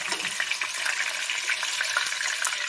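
A breaded pork schnitzel cutlet sizzles steadily in a pan after being flipped, a dense, continuous crackle of frying oil that holds close and fairly loud throughout, with no voices.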